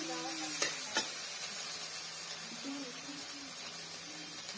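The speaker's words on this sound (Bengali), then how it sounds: "এবারে ভালোভাবে মশলাটাকে কষিয়ে নিচ্ছি।" Ginger, garlic and cumin paste sizzling in a pan while being stirred, a steady close hiss with a couple of sharp utensil knocks near the start.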